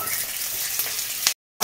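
Cauliflower fries in a wok of hot oil for a rohu fish curry, making a steady close sizzle and hiss that cuts off abruptly near the end before briefly resuming.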